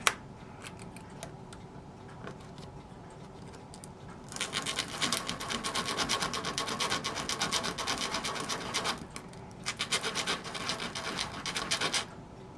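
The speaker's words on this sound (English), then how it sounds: "This is those new sanding sponges that one of the viewers sent." A sanding sponge scrapes back and forth on a wooden model ship in a steady rasping rhythm, close up, quieter at first and then louder and continuous.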